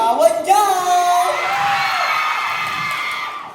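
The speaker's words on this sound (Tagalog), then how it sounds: "Wala bang hiyawan dyan?" A school-play crowd whoops and shouts loudly, a burst of high excited yells and cheers that rises quickly and then trails off steadily.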